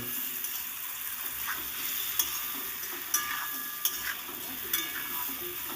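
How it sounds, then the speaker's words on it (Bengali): Potatoes frying in a pan with turmeric and salt, a continuous hiss of sizzling oil broken by regular scraping stirs and light clicks of the spatula against metal. "হলুদ আর লবণটাকে দিয়ে সুন্দর করে নেড়ে চেড়ে আলুটাকে ভেজে নেব"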